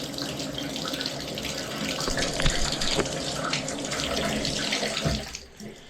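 A Delta 1700 Series shower faucet, being repaired for a leak, runs steadily with a close, full rush of water, then quiets abruptly near the end as it is shut off.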